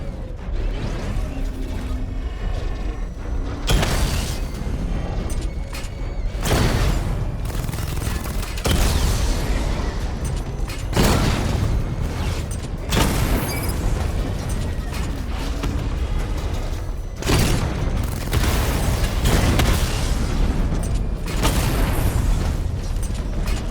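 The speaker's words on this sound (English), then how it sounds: "Charge up missile barrage to level 2 and destroy 4 active targets to complete diagnostic test." Missile barrage explosions in Batman Arkham Knight boom in a steady heavy volley of loud blasts, with repeated sharp bursts every few seconds over a constant mechanical rumble, and no talking.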